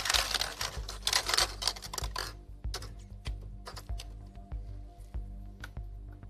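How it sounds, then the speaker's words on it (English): Balls being shuffled in glass bowls at a UEFA Europa League group stage draw, a loud rattling clatter for about two seconds followed by scattered light clicks and knocks, with no talk. "One more shuffle, then we are ready?"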